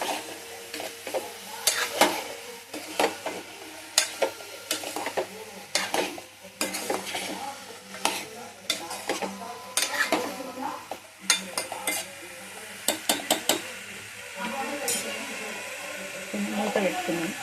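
Ridge gourd curry is stirred in a pan over a quiet sizzle, with repeated clattering scrapes and taps of a utensil against the metal in irregular bursts, close by, and a voice talking at times.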